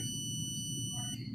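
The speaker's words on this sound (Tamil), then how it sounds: "ஒரு பீப் சவுண்ட் வரும் உங்களுக்கு." A digital multimeter beeps during a continuity test on a circuit, giving one steady, piercing electronic tone that holds for the whole moment, alone and fairly close.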